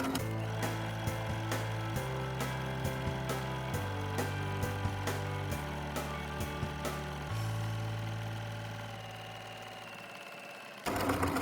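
A sewing machine stitches fabric for a fat quarter bookmark, with rapid, even ticking in several bursts separated by brief pauses. It stops near the end before a final short whir.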